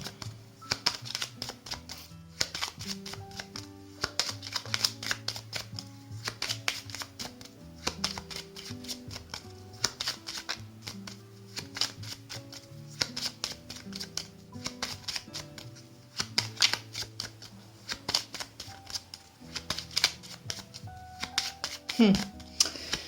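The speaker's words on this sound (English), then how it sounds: "Usually when I'm shuffling, I'm already getting ideas or impressions" Rapid papery riffling and soft card slaps repeat in bursts throughout, close up, with a voice talking quietly underneath.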